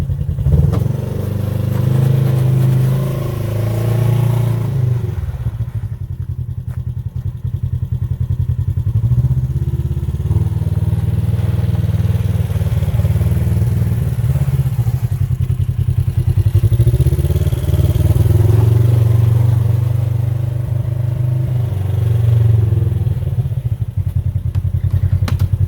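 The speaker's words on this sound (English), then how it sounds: "And there's the stock exhaust." A Polaris RZR RS1 side-by-side idles and revs through its stock exhaust, a deep, steady rumble close by with a few swells in engine speed and some clattering mechanical noise, no voices over it.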